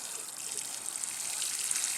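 A watering can sprinkles onto freshly planted sugar snap pea seeds covered with soil, giving a soft, steady, hissing patter of water falling like light rain, close and continuous.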